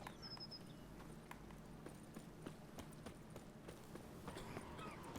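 Hooves of a galloping horse in The Witcher 3 clatter in a fast, steady clip-clop rhythm, close and continuous, with in-game ambience underneath and no talk.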